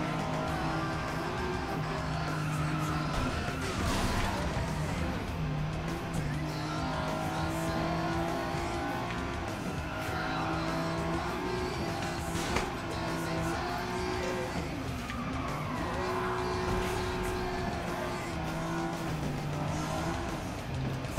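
Race cars in the Flatout Ultimate Carnage racing game drive with engines droning and revving continuously, rising and falling in pitch with shifts, with occasional tire skids and impacts, steady and moderately loud throughout.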